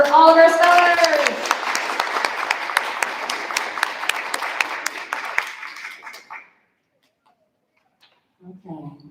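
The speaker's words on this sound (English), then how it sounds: "So we're going to start with a round of applause for all of our spellers." Audience at a spelling bee applauding its spellers, loud dense clapping at the start that thins and fades over about six seconds, then silence before a brief voice.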